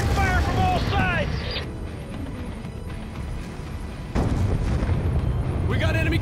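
Heavy gunfire and booming explosions during a street ambush in Call of Duty Black Ops 2, loud continuous rumbling blasts with a sharp new burst midway, while voices shout over the chaos.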